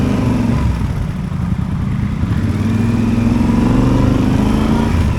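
A single-cylinder motorcycle, a KTM Duke 390 or Bajaj Dominar 400, drones loudly and steadily while being ridden at speed, with low engine rumble and wind noise throughout.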